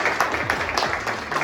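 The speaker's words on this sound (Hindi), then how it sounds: "क्लास इस बाकमाल शख्स के लिए तालियां तो बनती हैं" A classroom of students applauds a classmate, a short burst of moderately loud, close clapping with a few distinct claps standing out.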